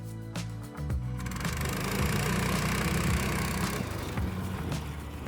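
A gasoline motorized sled engine revs and strains steadily during a tug of war, a loud, close, rattling mid-pitched drone that swells after a few sputtering pulses at the start.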